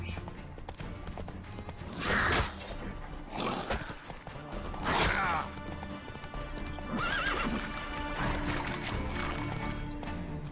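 A horse in The Witcher 3 whinnies several times in loud bursts over clip-clopping hooves and game background sound, the neighs standing out clearly and close.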